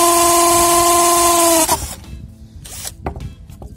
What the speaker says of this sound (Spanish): Igual en taladro, percutor y máxima potencia.